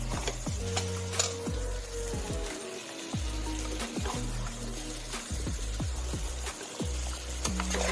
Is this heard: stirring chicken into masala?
yes